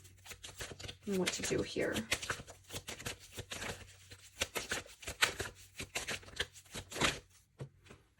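Tarot advice cards shuffled by hand make a dense burst of papery riffling and slapping, then a scattered series of crisp card snaps, while a voice talks briefly over part of it.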